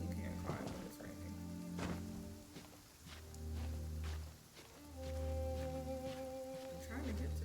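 Soft rain patters steadily under quiet Genshin Impact game music, with scattered drops ticking on surfaces throughout; the sound stays low and even.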